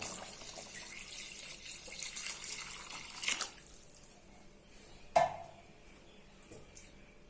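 Water poured from a tumbler into a pot of chicken biryani with seeraga samba rice, a steady close splash for about three seconds before settling to faint trickles and a small clink, with no talking.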